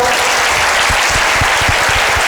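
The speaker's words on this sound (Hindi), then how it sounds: "उन सारे कार्यकर्ताओं का सम्मान करते हुए उनको तालियां तो बजा दो" A crowd gathered for a Jain Mahavir Nirvana festival applauds volunteers in a dense, loud burst of clapping that holds steady from start to finish.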